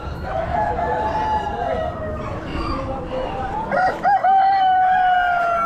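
Buff Brahma chickens at an Amish animal auction, with a rooster crowing loudly and close over a noisy background, clucking around it and voices nearby.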